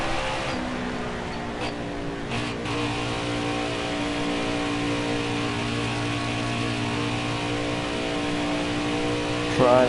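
NASCAR stock car engine from the NASCAR Heat 4 racing game on a qualifying lap, a steady droning roar with layered harmonics holding constant throughout, a brief rising rev near the end, with commentary talk over it.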